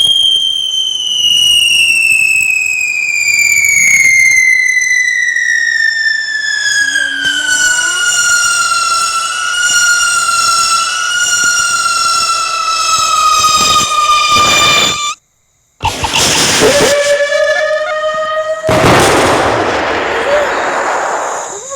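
Diwali fireworks go off close by: a long rising-then-falling whistle trails for several seconds before sharp, loud bursts and crackling explosions follow in quick succession.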